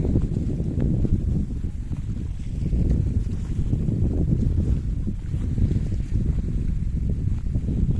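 Strong wind buffeting the microphone at the Gajah Mungkur reservoir in Wonogiri, a continuous loud low roar with gusting swells, no voices.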